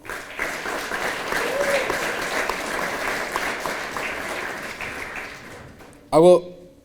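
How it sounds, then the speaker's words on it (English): An audience at a Veterans Day event applauds veteran service organizations such as the DAV, a steady broad wash of clapping lasting several seconds, before a brief loud burst of a voice at the end. "a round of applause to them as well"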